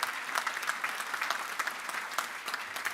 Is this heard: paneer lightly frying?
no